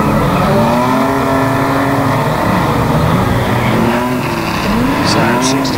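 Banger racing vans roaring around a track, with loud continuous engine drone, tire squeal and skidding, and a brief clattering impact near the end, heard under a commentator's running talk.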